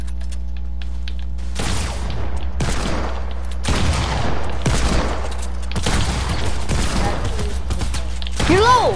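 Gunfire in the video game Fortnite: several loud bursts of rapid shots and heavy booms arriving in separate volleys, with players' voices mixed in near the end.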